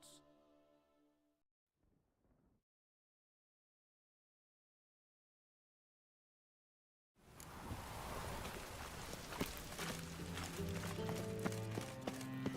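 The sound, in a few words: rain falling in video game The Witcher 3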